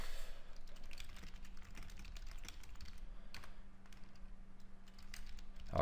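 Quiet, steady typing on a computer keyboard, a close run of light key clicks at an even pace with no talking.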